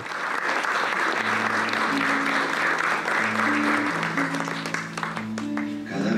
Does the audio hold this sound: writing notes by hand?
no